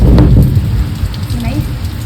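Heavy rain pounds down in a storm, loud and close, with a deep rumble of thunder at the start and a steady rush of falling water throughout.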